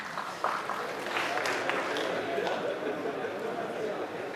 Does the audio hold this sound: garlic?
no